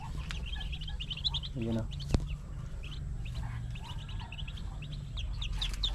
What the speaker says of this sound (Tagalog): andito na naman po yung ating isang bibe